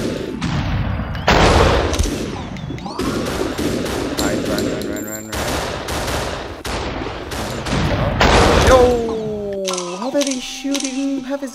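Gunfire in a shooting video game, with rapid automatic bursts and single loud shots at close range, mixed with game effects and a player talking.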